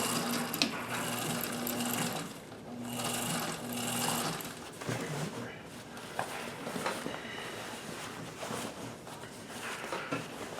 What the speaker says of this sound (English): you just sew along the edge, and this is quite easy to do